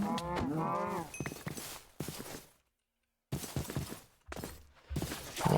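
Cows mooing in the Minecraft RogueLike modpack, a loud close low moo followed by several choppy bursts of game sounds and hits, broken by a short silence.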